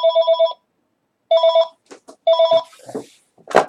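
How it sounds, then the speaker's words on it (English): A telephone rings indoors with classic electronic bell bursts, three distinct rings separated by pauses, close and clear, with brief background clatter and a short voice-like burst afterward. "Why is the phone always ring as soon as you start doing that?"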